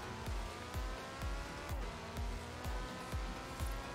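Car exhaust in Forza Horizon 4, a rhythmic low popping and burbling that repeats about every half second under a sustained engine drone, fairly quiet.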